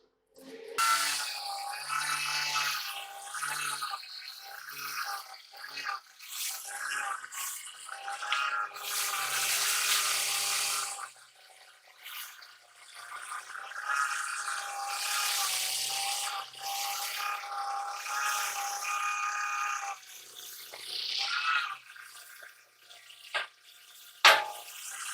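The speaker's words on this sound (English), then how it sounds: "you dump your salt in slowly" Salt pours slowly into a stainless steel brine maker filling with water, a rushing, hissing stream of water that comes in surges and pauses, with a low mechanical hum underneath at the start and a sharp knock near the end.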